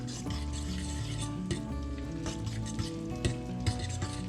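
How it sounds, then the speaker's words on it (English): Ham being stirred into a pan of cheese sauce gives a soft, continuous sizzle with occasional scraping and spoon knocks, close up and with no voices. "just work the ham right into the cheese sauce there"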